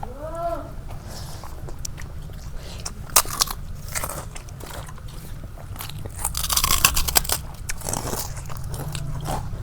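Crunchy papad being bitten while eating pangas fish curry, Bangladeshi style, giving several sharp crackling crunches at a close distance over low steady background hum.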